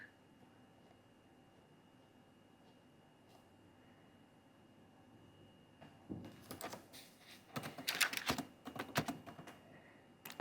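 Typing on a computer keyboard: after several quiet seconds, a close run of quick, uneven key clicks and clacks builds to louder taps near the end, with no speech.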